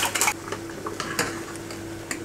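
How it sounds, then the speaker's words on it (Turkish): Whisk clinking rapidly against a bowl while hot soup is stirred into a yogurt mixture, light metallic ticks in quick irregular rhythm over a steady background hum. "Çırpıyorum"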